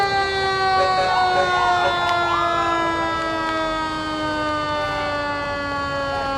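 A fire engine siren wails loud and steady with a slowly shifting pitch, sounding close as the truck moves through a Founders Day parade.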